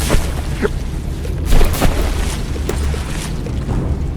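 Battleship shells exploding in the naval combat game From The Depths during a Stalingrad versus Saevus tournament battle, dense rumbling booms and scattered pops layered over continuous low battle noise, loud and without speech.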